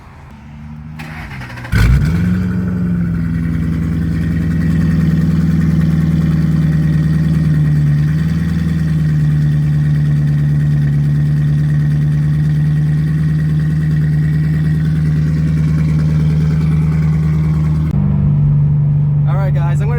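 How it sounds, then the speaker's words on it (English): Ford Mustang GT with new exhaust piping fires up at a garage with a sharp start, then rumbles at a loud, steady idle until shut off, with people talking nearby. "We're gonna get that first start up."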